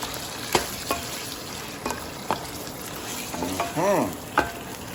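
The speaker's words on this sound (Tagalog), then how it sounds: "mekos-mekos natin yan. Para magisa-gisa." Vegetables and liver are sautéed and gently stirred in a pan, giving a low continuous sizzle broken by spaced scrapes and knocks of the utensil, with a brief voice-like sound near the end.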